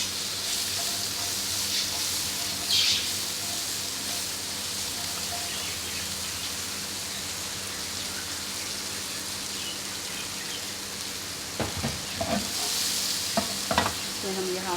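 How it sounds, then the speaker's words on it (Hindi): Boiled vegetables stir-fried in butter in a pan sizzle steadily up close, with a faint hiss throughout and a few sharper clinks and scrapes of stirring near the end. "पैन में हम अपने मक्खन डालेंगे। ये अपनी सब्जियाँ डालेंगे"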